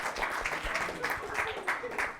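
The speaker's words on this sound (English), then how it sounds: "a round of applause is due" Applause from a conference audience in Mumbai, steady rhythmic clapping from a sizeable crowd that swells in regular bursts across the whole stretch, moderately distant and without speech.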